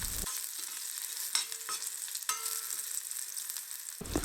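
Green chilies and thinly sliced garlic fry in hot oil in a pan, a steady close sizzle with a few stirring scrapes breaking through.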